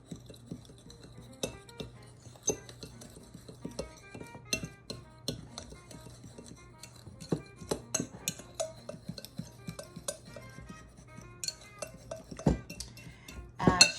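Dry berry cobbler ingredients, including salt, are stirred together in a bowl, giving quiet, irregular clinks and light scrapes of a utensil against the bowl throughout, with no talking.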